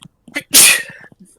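A person gives one loud, sharp sneeze, preceded by a short intake of breath and followed by faint murmuring voices.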